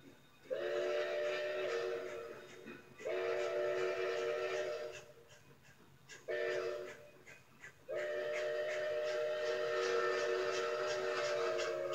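Long, loud steam whistle blasts from narrow-gauge steam trains on the Durango and Silverton line sound in four sustained bursts, each a rich chord of pitched tones, with brief quieter gaps of rumble between them.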